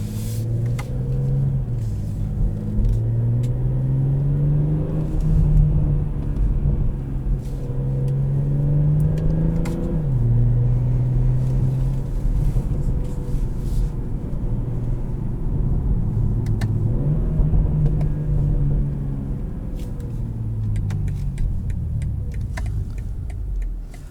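A nearly new 2020 BMW M340i engine runs in Sport Plus and manual mode from inside the cabin, its loud, steady drone rising and dropping in pitch as it pulls through gears, with no talking.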